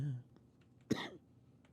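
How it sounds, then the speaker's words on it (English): A single short, sharp cough rings out close by after a faint voice murmurs, followed by quiet. "I have a very healthy cough today"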